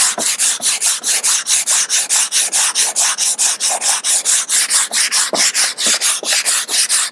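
Sanding block rubbed by hand over filler on a surfboard, a steady rhythmic back-and-forth scraping of about four strokes per second, close and loud, with no talking.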